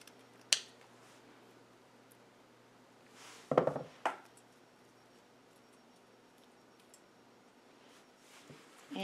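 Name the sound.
scissors cutting wire ribbon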